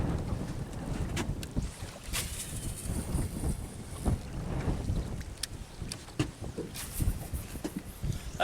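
Gusty wind on a lake around a fishing boat, low rushing buffeting with scattered knocks and splashes of water against the hull, continuous and fairly close.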